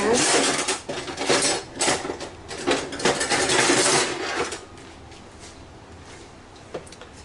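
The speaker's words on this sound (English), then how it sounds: "I need my whisk. Kind of whisk it in." A small Betty Crocker wire whisk clatters and scrapes rapidly against a bowl as ingredients for pineapple poblano tacos are mixed, loud and busy for several seconds before quieting to faint kitchen background.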